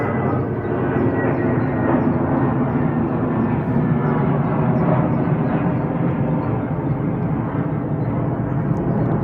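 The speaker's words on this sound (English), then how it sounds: "Which just makes the planes even louder" Airplanes drone overhead across a lake on a calm day, a continuous, broad roar that stays steady for the whole stretch, fairly loud and distant, with no talk.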